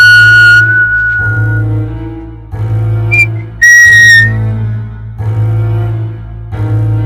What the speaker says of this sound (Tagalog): nang marinig ang isang pamilyar na sipol